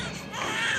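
An infant wails in one sustained, rising cry, fairly loud and close, with no other voices over it, set in a Haryanvi family drama.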